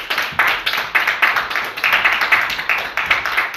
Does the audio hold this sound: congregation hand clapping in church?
yes